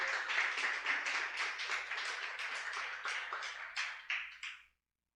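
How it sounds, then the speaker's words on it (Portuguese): Applause from a church congregation praising Jesus during a sermon, a dense burst of claps that rolls steadily for about five seconds, then thins and stops abruptly. "Você pode aplaudir Jesus"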